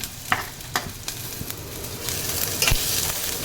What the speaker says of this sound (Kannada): ಎಣ್ಣೆ ಚೆನ್ನಾಗಿ ಬಿಸಿ ಆದಮೇಲೆ ಸಣ್ಣದಾಗಿ ಹೆಚ್ಚಿಟ್ಕೊಂಡಿದ್ನಲ್ಲ ಈರುಳ್ಳಿ, ಅದನ್ನು ಹಾಕ್ಕೊತಾ ಇದ್ದೀನಿ